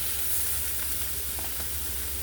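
Chicken sausages brown in a hot pan with a steady, close sizzle and crackle of frying fat, with no voices.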